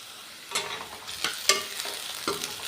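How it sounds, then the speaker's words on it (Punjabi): Onions fry in a pan as a spoon stirs them continuously, giving a soft sizzle with several scraping strokes at irregular intervals, close and without talking. "ਲਗಾਤਾਰ ਹਲਾਉਂਦੇ ਹੋਏ ਪਿਆਜ਼ਾਂ ਨੂੰ ਪਕਾ ਲਾਂਗੇ"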